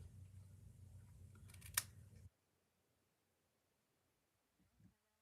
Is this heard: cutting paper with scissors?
yes